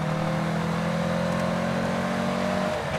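A 60-horsepower Porsche 356 B engine hums steadily from inside the car while driving, then its pitch drops as the driver rolls onto the gas during a downshift.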